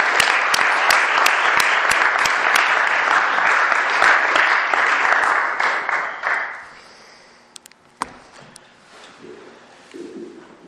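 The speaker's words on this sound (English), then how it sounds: "please give a round of applause to our speaker" An audience applauds a speaker at a talk on corporate influence and local rights, loud sustained clapping for about six seconds that fades to scattered claps and room murmur.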